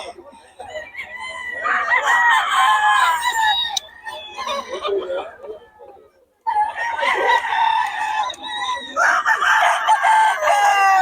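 Gamefowl roosters crow loudly and close by, several long overlapping cock-a-doodle-doo calls with clucking in between, pausing briefly midway before more crowing resumes.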